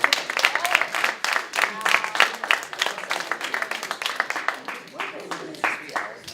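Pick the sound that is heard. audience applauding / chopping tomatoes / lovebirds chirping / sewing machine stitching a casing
audience applauding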